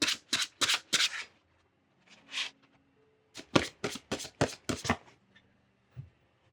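Oracle cards are shuffled for a tarot reading: a series of crisp, close riffling bursts in irregular clusters, loud and clear with no talking.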